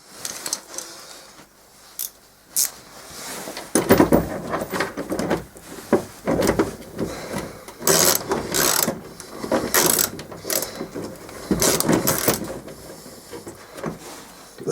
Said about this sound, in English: I just stick my Allen bolt through with a washer on either side. Screw it all together.